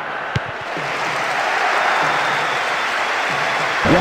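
Football stadium crowd at a Corinthians versus Flamengo match, a broad steady roar and cheering from the stands, filling the whole stretch as a wash of distant noise.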